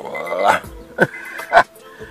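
A dog makes three short vocal bursts, low whining growl-like yips spaced about half a second apart, close to the microphone.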